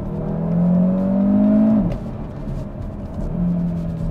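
A CUPRA Formentor VZ5 engine revs hard under acceleration, its pitch climbing steadily before dropping at a gear change, then rising again, heard loud and close from inside the car with no talking.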